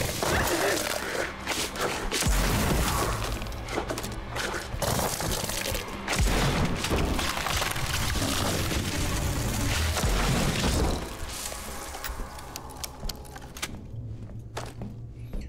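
Gunfire in the horror shooter Daymare 1994: Sandcastle, a run of sharp, loud booming shots and impacts packed close together over game noise, easing to quieter ambience near the end.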